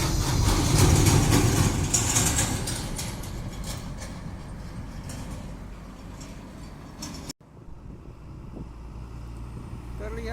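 A trailer truck rolls past on a road in Cilacap, Indonesia, with a loud, broad engine and road roar that slowly fades, then drops to quieter traffic rumble while someone talks over it.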